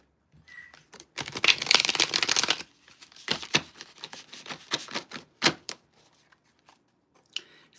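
A deck of tarot cards is shuffled by hand several times, giving close, crisp riffling bursts and flutters separated by short pauses, with no talking.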